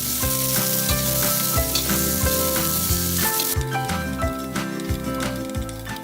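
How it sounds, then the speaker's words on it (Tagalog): Garlic sizzling and frying in a hot pan for a Filipino mussel dish, with a steady loud crackle and occasional stirring scrapes, no talk. "We are going to saute the garlic first, and then the onions,"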